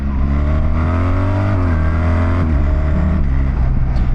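A BMW motorcycle with Automated Shift Assistant, shifted manually by foot, its engine running loud and steady with harmonic tones that dip and climb again at smooth gear changes.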